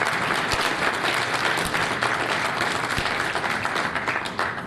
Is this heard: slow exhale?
no